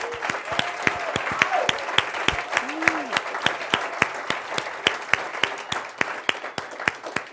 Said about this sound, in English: Can we give a big round of applause for the speakers?